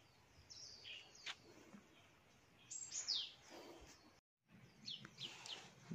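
Blackbirds in a banyan tree heavy with ripe fruit give scattered sharp chirps and whistled calls, some near and some farther off, over a quiet outdoor background with a brief dropout midway.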